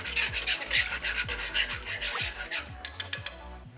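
Rapid scraping of a whisk against a pan as milk and Worcestershire sauce gravy heats, a steady rhythmic rasp close up that turns into a few separate clicks near the end.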